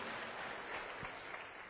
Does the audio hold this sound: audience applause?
yes